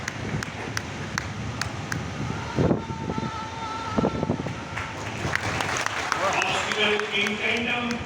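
Audience applause at a BSF Raising Day karate demonstration, a broad steady clatter of clapping running through the whole stretch and mixed with crowd noise and some wind.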